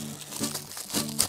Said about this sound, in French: Alors là, moment déballage un peu galère